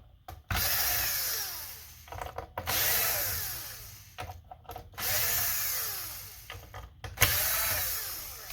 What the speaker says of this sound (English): I like to take out the rest of the T10,